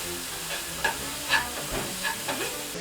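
A spoon stirs a coconut filling mixture with cardamom powder in a pan on the stove, giving soft scraping strokes every half second or so over a faint, constant sizzle.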